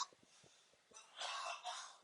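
A roommate coughs several times in the background, short muffled bursts at a moderate distance, with brief pauses and a heavier cluster of coughs toward the end.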